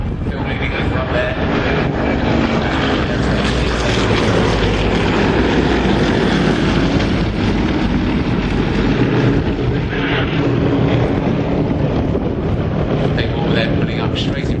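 Aerostars aerobatic team propeller planes flying in formation at the Flying Legends 2013 air show, a loud, continuous, droning engine roar overhead that holds steady throughout with a faint voice beneath.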